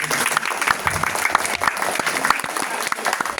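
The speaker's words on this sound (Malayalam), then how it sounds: "നമുക്ക് അവരുടെ വേണ്ടി എല്ലാവരും ഒരു നല്ലൊരു കൈയടിയൊക്കെ" An audience claps together in a dense burst of applause, loud and steady, with faint crowd murmur.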